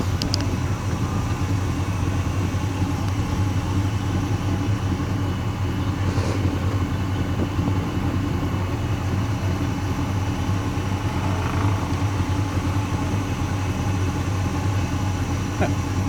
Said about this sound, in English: And your exhaust purrs.